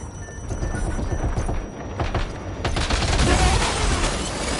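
Gunfire in the game Death Stranding 2, a sustained loud barrage of rapid shots with rumbling impacts that intensifies partway through, close and continuous.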